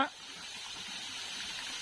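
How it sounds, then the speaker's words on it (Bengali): A fountain pours a steady gush of water into a large fish pond beside an artificial hill, a continuous broadband rush that stays even and fairly close throughout. "ঝর্ণা ঝর্ণা ছেড়ে দিছে"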